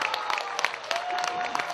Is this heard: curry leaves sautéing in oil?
no